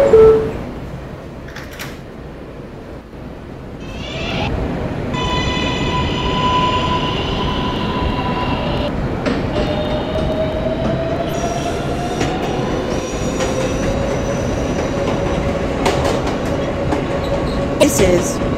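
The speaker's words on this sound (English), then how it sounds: "This is a Westbatop bound N local train." An R143 N local subway train runs in a Roblox game, a steady loud rumble with high whining motor tones rising and falling and a sharp squeal near the end, joined by brief clunks.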